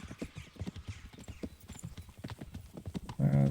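A horse gallops in the medieval video game Kingdom Come: Deliverance, its hooves drumming in a quick, steady clip-clop rhythm close by, loud and continuous for the whole stretch with no talking.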